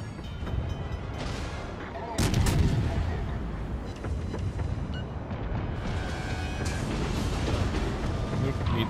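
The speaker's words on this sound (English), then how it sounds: "Come on, secondary guns, fire!" Heavy gunfire from a battleship, the Mikasa, in World of Warships: Legends, with a dense, continuous rumble of cannon and explosions and a louder burst of shots near the start.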